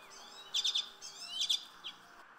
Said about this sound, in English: the common redpoll is going to sound and look like this.